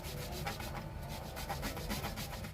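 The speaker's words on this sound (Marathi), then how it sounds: "आपण दोन बटाटे घेतले ते आता आपण खिसून घेणार आहोत किसून घ्यायचे" Two potatoes being grated finely by hand, a steady rough rasping scrape that repeats in quick strokes throughout, close and fairly loud, with no talking.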